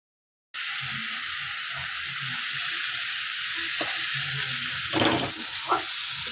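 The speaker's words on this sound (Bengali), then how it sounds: "কড়াই তেল দিয়ে দিয়েছি, তেজপাতা দিয়ে দিয়েছি।" Bay leaves sizzle in hot oil in a wok, a steady close hiss of frying with faint clinks and a few louder crackles near the end, no talk.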